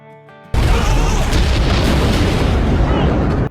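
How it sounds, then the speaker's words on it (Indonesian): An RPG blast destroying a dock in an action film: a sudden massive explosion after a short quiet musical lead-in, then a sustained roaring boom that fills the rest of the moment. "Tiba-tiba, datanglah Aisyah dengan sebuah RPG dan meledakkan dermaga itu."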